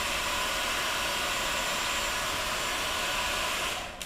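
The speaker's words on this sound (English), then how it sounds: "if you can hand me the hair dryer that's sitting right there" A hair dryer blows steadily at close range, a loud even whoosh that cuts off just before the end.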